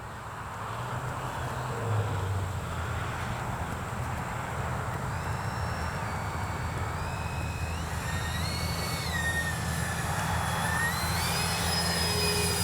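A Freewing twin 70mm AL-37 RC jet flying in the evening, a constant loud ducted-fan whine and roar whose pitch rises and swoops as it passes overhead.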